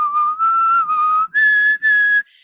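A singer whistles through pursed lips as a vocal warm-up, a series of five or six sustained clear tones with short breaks, stepping up in pitch partway through, loud and close with no talking.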